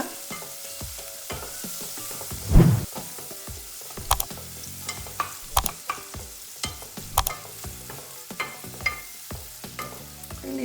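Onion frying in a pan for a methi goli kadabu dish sizzles steadily up close, with repeated sharp clicks and scrapes from stirring and one louder clatter early on.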